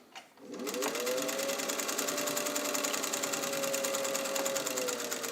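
A restored Singer 201 all-metal sewing machine starts up and stitches at a steady, even speed, a continuous loud mechanical whir with a fine rhythmic needle clatter, no voices.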